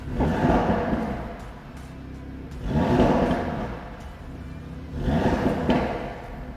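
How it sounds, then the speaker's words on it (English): An Audi five-cylinder car engine revs three times with a rough, throaty rumble, each surge rising and then settling back to idle, loud and close. "that's what's unique about the 5-cylinder engine. No other car produces that kind of sound"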